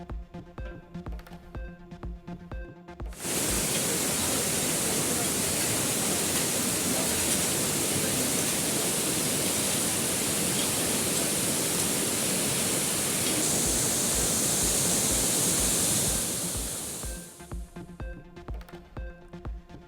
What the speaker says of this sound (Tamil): தென்காசி மாவட்டம் குற்றால அருவியில் தொடரும் வெள்ளப்பெருக்கு